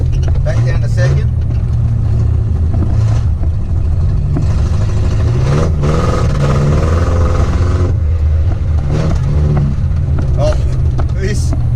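A Datsun 1500 ute is driven while shifting from second up to third and back down to second. The loud, close engine drone rises and falls with each change, and a voice talks over it.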